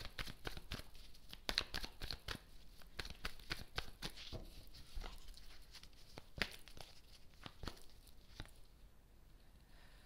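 A fortune-telling card is laid down and covered with another, giving quiet papery rustles, soft taps and crinkles in an irregular run. The sounds are faint and close, with no talking.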